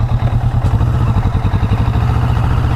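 A Kawasaki Vulcan S motorcycle engine after an upshift runs loud and close with a steady, rhythmic throbbing pulse.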